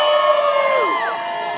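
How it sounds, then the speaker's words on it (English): Crowd at a justice peace rally for a dog named Max cheering and screaming, several high voices whooping and shouting together in a short loud burst, with no distinct clapping standing out. "Clap and scream for Max!"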